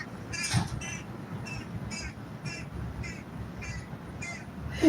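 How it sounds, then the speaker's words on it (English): A crow caws in a steady run of about eight harsh calls, evenly spaced, outdoors over a rumbling background. "Can you hear the birds? Oh my goodness. Non-stop, making a lot of noise today."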